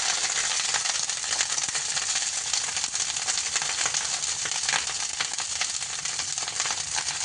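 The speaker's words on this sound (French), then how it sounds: "Poêler un tout petit peu avec ce matière grasse pour les faire cuire" Steady, bright sizzling of food being pan-fried quickly in fat during preparation of a butternut squash confit dish, continuous and close with faint rattles and stirring underneath.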